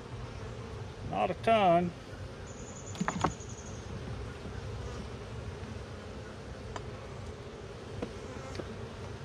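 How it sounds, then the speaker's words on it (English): Honeybees hum inside a hive frame holding some brood during an October colony inspection, a low, steady buzz sitting faint beneath a person talking close by. "There's some bees in here."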